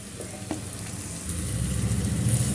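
Crushed green chili, ginger and garlic hit a hot pan and sizzle steadily, a dense frying hiss that swells slightly louder toward the end, with a couple of light clinks from a stirring utensil.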